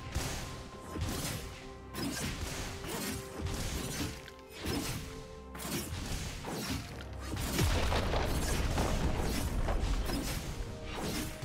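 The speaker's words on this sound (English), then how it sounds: "Red Team's turret has been destroyed." Turret destruction in League of Legends, a top-lane Irelia versus Dr. Mundo match: a string of loud crashing, smashing impacts and booms, dense and continuous, building to a heavier rumbling burst in the later seconds.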